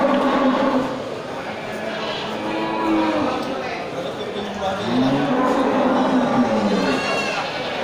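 Native Aceh cattle low several times, drawn-out moos that rise and fall at fairly close range at a cattle market, with a voice talking in the background.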